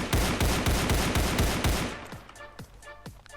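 Rapid automatic gunfire in the Roblox shooter Counter Blox, a dense burst of evenly spaced shots for about two seconds, then a few scattered single shots with ringing tails.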